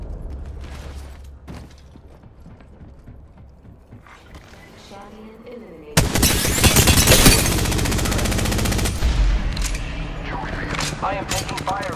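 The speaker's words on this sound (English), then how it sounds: "I am taking fire, friends. Getting shot." Rapid gunfire in an Apex Legends match, starting as scattered distant shots and then erupting into a loud, dense burst of automatic fire around the midpoint that carries on steadily to the end, with clicks and mechanical clatter mixed in.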